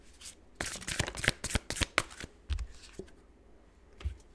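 A tarot deck is shuffled and cards are drawn during a monthly Leo reading: a dense run of close, crisp riffling snaps, then a few sparse soft card flicks and taps.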